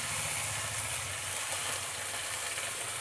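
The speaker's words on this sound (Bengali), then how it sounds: "এবার ম্যারিনেট করা চিকেনটা দিয়ে দিলাম তেলের উপরে" Marinated chicken and potato pieces sizzling in hot oil for a milk chicken curry, a steady, fairly loud, dense frying hiss that holds evenly for a few seconds with no talking.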